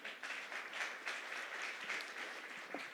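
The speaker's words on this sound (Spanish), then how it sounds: "Den un aplauso al Charlie." A church audience gives a round of applause, soft and steady clapping from a room full of people, heard alone without talk.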